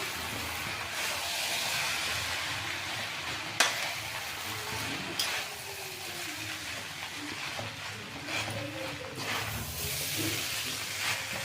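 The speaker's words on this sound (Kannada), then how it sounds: "ಈಗ ಇದನ್ನೆಲ್ಲ ಚೆಂದಾಗಿ ಮಿಕ್ಸ್ ಮಾಡ್ಕೊಬಿಡ್ತೀನಿ" Egg noodles are tossed with green chili sauce in a hot pan over a high flame, giving a continuous hissing sizzle with scraping stirs and occasional sharp knocks of the utensil against the pan. No one talks.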